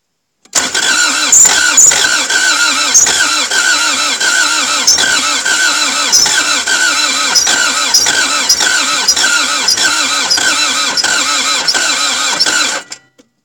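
Starter cranking on a Toyota MR2 AW11 during a start attempt, a steady rhythmic churning that runs continuously for about twelve seconds, loud and close, without the engine catching.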